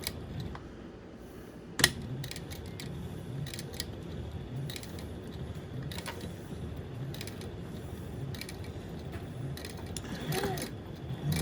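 A sewing machine back stitches a double-sided vinyl and cotton wristlet strap, giving quiet, close mechanical clicking and whirring with a sharp knock near the start.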